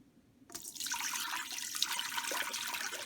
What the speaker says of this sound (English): you do the water test by taking 3 cups of water and pouring it into the inner pot here